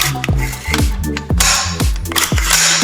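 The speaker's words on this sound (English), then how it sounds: "Just by pulling back the charging handle, there's no grittiness." A series of sharp metallic clacks and slides as the charging handle of a B&T APC308 rifle is pulled back, several quick smooth actions close to the microphone with short pauses between them.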